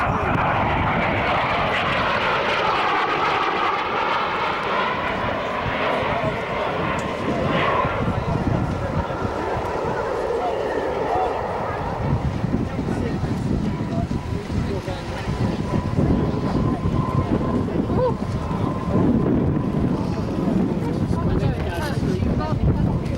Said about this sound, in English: Diving towards the ground now to build up speed.